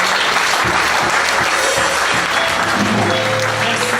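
A church congregation applauds in praise during a worship service, producing steady, dense, loud clapping that carries on without a break, with faint voices mixed in.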